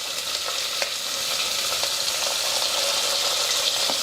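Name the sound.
vegetables and curry leaves frying in oil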